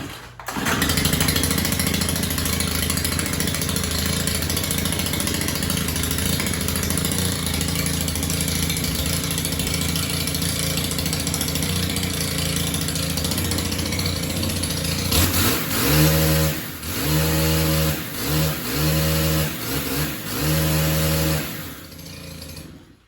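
STIHL HT 131 pole saw's small four-mix engine running steadily at close range, a continuous buzzing drone that later breaks into repeated revving surges and drops over the last several seconds.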